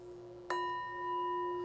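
After a brief rub, a glass rim rings out with a clear, sustained singing tone that holds steadily and stays close.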